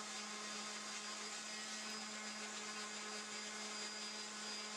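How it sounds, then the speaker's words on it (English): Steady electric orbital sander running continuously on a stainless steel chef knife handle, a dense whirring buzz with a constant hum, close and even, no pauses and no talking. "I then use an electric sander, an orbital sander"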